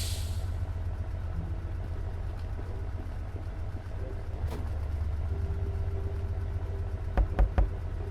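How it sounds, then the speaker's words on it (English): Steam engine in the game Lamplight City hums with a low continuous drone and faint hiss throughout, joined near the end by a few sharp metallic knocks. "Some people would call that humming and hissing the sound of progress."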